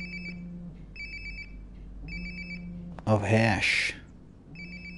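A phone ringtone trills in repeated short bursts during a stream of the game Life Is Strange: Before the Storm, fairly soft and regular, with a voice talking loudly over it partway through.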